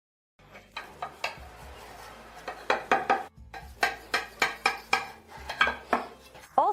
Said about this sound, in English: I cut the pie into squares like this and lay them out this way.